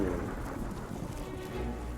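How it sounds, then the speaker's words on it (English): A lightning explosion from the Staff of the Lightning Ball in a video game, a loud, dense crackling rumble like thunder that holds steady for about two seconds. "This is Staff of the Lightning Ball. A lightning explosion dealing 40 points of damage in a 15-foot radius."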